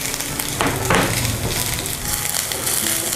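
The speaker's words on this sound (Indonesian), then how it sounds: "Kita tumis sampai bawang putihnya wangi" Minced garlic sautéing in a pan for gudeg areh sauce, with lemongrass, bay leaf and galangal already cooking, makes a steady close sizzle and crackle with a couple of brief stirring scrapes.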